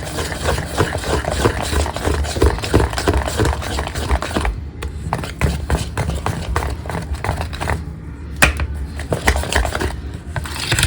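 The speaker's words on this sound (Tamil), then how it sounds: "இதில் இன்னும் கூட கொஞ்சம் நம்ம பட்டர் சேர்த்து நம்ம மிக்ஸ் பண்ணிக்கலாம்" Butter being stirred into a crushed Unibic biscuit cake mixture, with a dense run of quick scraping, tapping strokes against a bowl, close and steady, pausing briefly before resuming.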